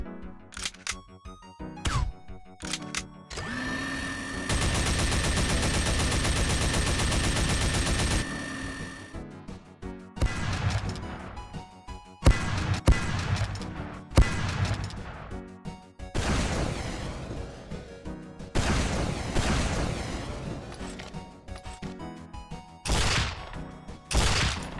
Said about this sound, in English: I played sound effects from the following weapons: the Brass Beast, the Iron Bomber, the Hitman's Heatmaker, the Rocket Launcher, and the Shortstop